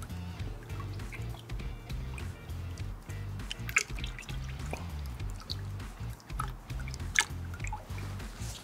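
Water runs steadily while a drain pipe piece is rinsed after a chemical drain cleaner test, giving a continuous splashing, dripping flow with a couple of sharper splats, close and fairly loud.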